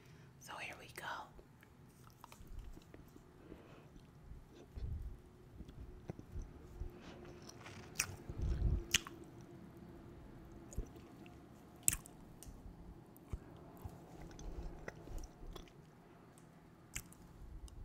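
Someone chews an aerated Hershey chocolate bar with bubbles in it up close: soft, moist squishing and biting sounds with a few sharper clicks, mixed with quiet whispering.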